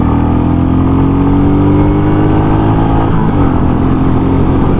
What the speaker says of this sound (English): Let's see, let's get some speed going here.